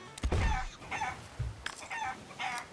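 Chickens in the pirate video game Sea of Thieves clucking and squawking in several loud bursts, with a thud near the start and short gaps between calls.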